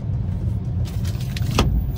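A car on a road in a residential area, a steady low engine rumble close by with a brief passing whoosh of another vehicle toward the end.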